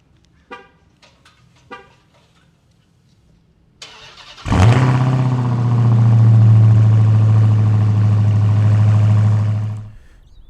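Faint clicks, then a starter whirs and the supercharged engine of a 2020 Dodge Charger SRT Hellcat Widebody cold-starts with a loud roar, settling into a heavy, rumbling idle before cutting off.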